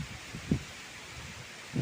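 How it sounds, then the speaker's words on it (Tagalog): Gusty wind in bad weather outdoors on rural Ilocano farmland, soft continuous rustling with a couple of brief low buffeting gusts hitting the microphone. "ito mahangin at masamang panahon"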